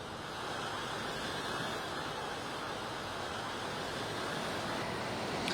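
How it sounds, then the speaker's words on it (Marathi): High sea waves crash continuously at Dadar Chowpatty beach in Mumbai, a dense, steady roar of surf and wind without a break. "आपण माझ्या मागे बघू शकता उंच लाटा या ठिकाणी खरं तर आदळताना आपल्याला पाहायला मिळत आहेत"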